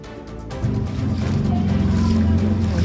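Sea waves surge onto the coast of Kota Agung, Tanggamus, during tidal flooding, as a loud, continuous low rumble and wash that swells after the first half-second.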